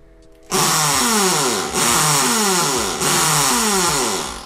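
A Bosch three-function drill running in concrete drilling mode, loud and close, whining up in three bursts that each start with a rising rev, with a brief dip between them.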